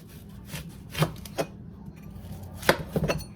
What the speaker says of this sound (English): you want to do a 1/4 to a 1/2 inch cut with the onion so that the slices are big